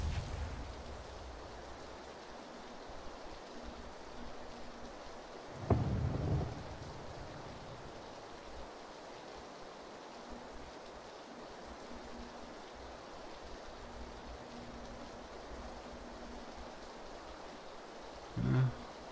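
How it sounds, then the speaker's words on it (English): Steady rain hisses in the video game PUBG, with two brief low thunder-like rumbles rising out of the even wash of noise, all fairly quiet and with no talk. "this rain, the environmental effects, mess with all of that, in a positive and in a negative way."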